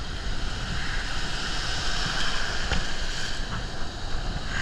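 Strong ocean waves and churning surf at Cerritos Beach, a constant loud wash of water with wind buffeting the microphone, no voices.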